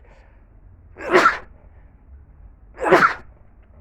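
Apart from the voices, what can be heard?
repeated sneezing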